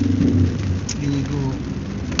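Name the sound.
heavy rain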